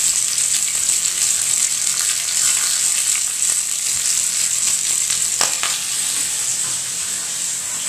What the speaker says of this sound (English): the bacon is happily crisping up as we speak